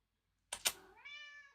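A pet cat opening a door, with two sharp knocks or thumps followed by a short, clear meow, close and alone in a quiet room.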